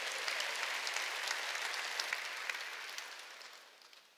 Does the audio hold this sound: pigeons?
no